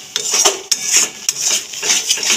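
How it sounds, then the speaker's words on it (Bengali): A spoon scrapes and clinks against a pan while masala with cashew paste is stirred and fried, giving a quick irregular run of metallic taps and scrapes, close and fairly loud, with no voices. "কষিয়ে নেবো মশলাটা"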